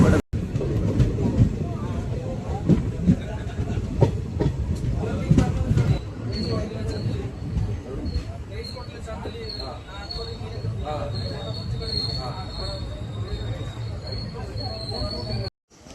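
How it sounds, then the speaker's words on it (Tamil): An unreserved Palakkad to Tiruchendur express train runs at speed along the tracks, a steady near rumble of wheels and carriage noise with faint squeals, continuing throughout with no pause. "ட்ரெயின் வந்து அடிச்சு பிடிச்சி ஓடிட்டு இருக்கு"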